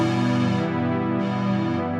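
A Reason 13 Polytone dual-layer synth holds its layer B patch as a steady, bright, harmonically rich sustained tone, loud and alone throughout.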